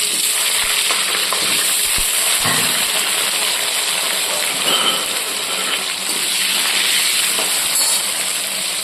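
Potatoes fry in oil in a wok with a loud, continuous, close-up sizzle and occasional faint clinks throughout.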